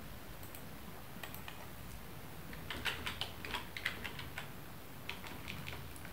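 Names go into an Excel spreadsheet list typed on a computer keyboard: quiet, irregular key taps in small bursts, clustering mid-way with a few isolated presses later, without voices.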